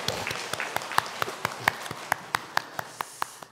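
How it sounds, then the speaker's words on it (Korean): A Sunday church congregation applauds in unison, sharp rhythmic claps landing in an even beat over a softer bed of scattered clapping, fairly close and loud. "하나님께 영광의 박수 올려드립니다."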